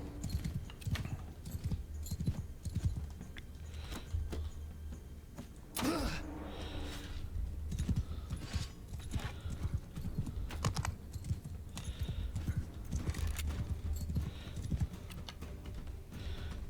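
Horse hooves in a medieval combat game clip-clop in a steady galloping rhythm throughout, joined by scattered impacts and a brief louder burst midway, fairly close and without talk.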